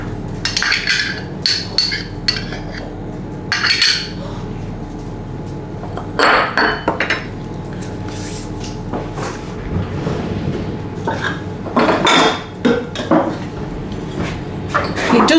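Utensils clatter and clink in a home kitchen drawer while someone rummages for a quarter-cup measure, with bursts of metallic rattling spread through the clip over a low steady background hum.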